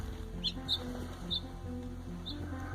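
A freed sparrow gives a few short, high chirps, four scattered tweets spaced unevenly, moderately close, over a continuous low music bed with no speech.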